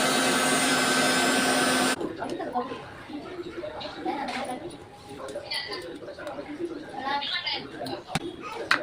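A mixer grinder blending a ginger-garlic paste with turmeric in a home kitchen, whirring loud and steady for about two seconds before stopping, followed by people talking and kitchen handling noises.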